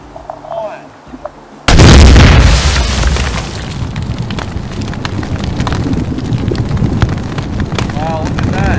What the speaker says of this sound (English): Damn, that was a pretty big explosion.